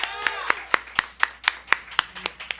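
Applause after a live band concert at a small venue, heard mostly as one nearby person clapping in an even, regular rhythm, about four claps per second, with a faint crowd behind.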